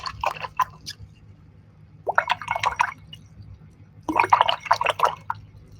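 Acrylic paint brush swished and rinsed in a water cup, with three separate bursts of splashing, dripping and gurgling water over a low background hum and no talk.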